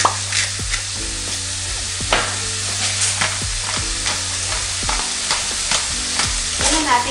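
Beef for kaldereta sizzles steadily in a hot pan while a utensil stirs it in repeated scraping strokes, close and fairly loud, with no talking.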